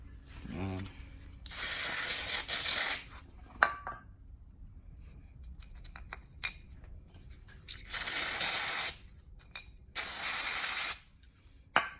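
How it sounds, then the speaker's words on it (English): Several hissing bursts of mass airflow sensor cleaner sprayed on a 2014 Toyota Sienna, each lasting about a second, separated by quiet gaps with faint clicks and handling noises. "spray some of this mass airflow sensor cleaner"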